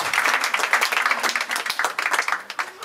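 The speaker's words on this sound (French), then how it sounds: "on applaudit très très fort s'il vous plaît le représentant du syndic de la ville de Lausanne" Audience applause at a 15th-anniversary community association gathering in Switzerland, a steady dense patter of many hands clapping close by for nearly three seconds, with faint voices mixed in.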